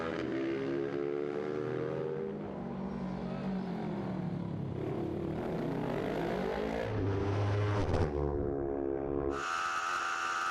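Racing motorcycles at the Southern 100 road race roar past in a continuous loud engine drone, pitch rising and falling as bikes brake and accelerate, ending with an abrupt high whine change.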